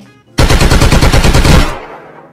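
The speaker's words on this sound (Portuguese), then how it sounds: "tem um barulhinho que rola aí de tiro e tal" Loud burst of rapid machine-gun fire used as a sound effect in a military-themed livestream intro, about a second and a half of close, evenly spaced shots that end in a fading echo.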